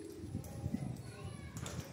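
A pet pigeon or dove coos softly in a few low rolling calls, fairly quiet and close, with a faint voice in the background.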